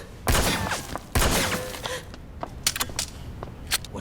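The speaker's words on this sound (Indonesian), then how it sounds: "Daoba sudah siap dengan pistolnya dan menembak Lin Xia" Pistol gunshots in a film scene: two loud, sharp cracks roughly a second apart ring out up close, followed by scattered softer impacts and clatter that fade away.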